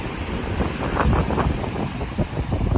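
Strong wind buffets the microphone in a steady roar, with surf washing and breaking underneath throughout, on a beach at Subic Bay after rain.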